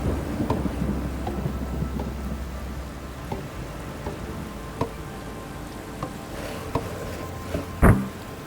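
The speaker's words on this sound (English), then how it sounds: "The rain just falls and falls and falls." Steady rain pours throughout in the video game Kingdom New Lands, with a low rumble of thunder underneath and a sharper crack near the end.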